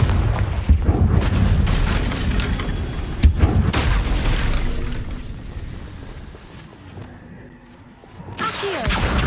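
A Confringo explosion spell goes off in a Harry Potter video game, with sharp booms near the start, in the middle and near the end, amid rumbling, dense game noise.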